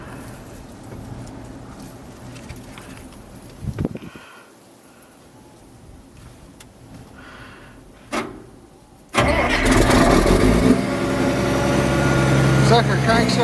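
A Case 4490 tractor, abandoned for years, grinds through brief cranking bursts before its diesel catches and settles into a loud, steady running roar that persists to the end, with a voice talking over the early part.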